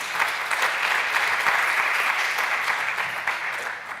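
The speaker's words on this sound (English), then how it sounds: "big applause, they got the gold label" Sustained audience applause at a big data forum award ceremony in Valencia, dense and steady clapping from a large crowd filling the whole four seconds without a break.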